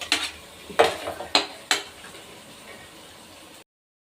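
A spoon scrapes and clanks against a kadai as radish bhurji is scooped out, four or five sharp metallic knocks in the first two seconds, then a quiet tail before the sound cuts off.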